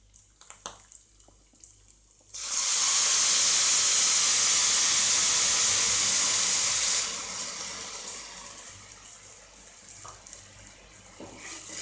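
Water pours steadily into a cooking pan for rice flour adai, a loud, even rush lasting a few seconds before fading to quieter trickling and kitchen ambience.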